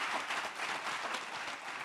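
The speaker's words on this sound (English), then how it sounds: "Let's give him a round of applause" An event audience gives a round of applause, a dense wash of clapping that stays steady and fairly loud for under two seconds.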